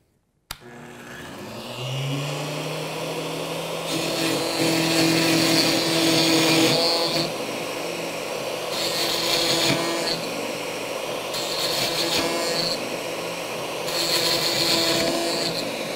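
A plunge power tool cuts a mortise in a wooden stool part with a steady whine that swells louder during several plunges and eases off between them.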